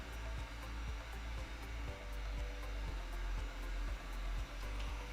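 A heat gun warms vehicle wrap vinyl, giving a quiet, steady blowing hiss with a low rumble. Soft, regular ticks and thumps recur underneath as the work goes on.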